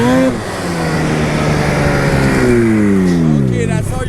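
A tracked snow vehicle revving hard to break its track free from deep snow, the engine note climbing and sweeping upward in pitch, loud and close, fading briefly near the end.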